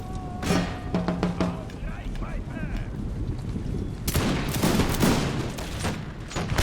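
Rapid volleys of musket fire crack and boom in Empire: Total War with the Imperial Splendour mod, defenders firing down on troops scaling walls, dense overlapping shots swelling louder partway through, with battle noise beneath.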